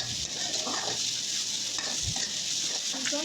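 Cooked brain frying in a pan, a dense hissing sizzle that stays steady and fairly loud, with a few faint scrapes of stirring and no speech.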